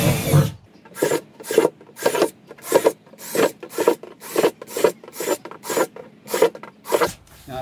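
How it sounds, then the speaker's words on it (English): A 3/8-inch bit drills drainage holes in a plastic vermicomposting bin, heard as about a dozen short, loud, rasping bursts in quick, regular succession, close to the listener. "Now I've drilled them all in the center"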